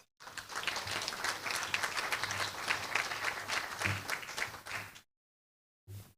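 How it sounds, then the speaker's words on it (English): A meeting audience breaks into steady, full applause lasting about five seconds, then it stops abruptly into silence before a voice begins. "So let's give her a round of applause."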